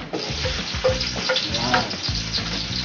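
Chopped onion and garlic sauté in hot oil in a pan, giving a steady, moderately loud sizzle with a low tonal hum running underneath.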